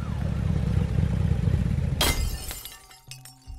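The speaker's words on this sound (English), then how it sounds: "I heard a smash, like glass breaking" A window breaks with a sudden loud glass smash that follows a low rumbling stretch, then scattered tinkling fragments settle and fade into near silence.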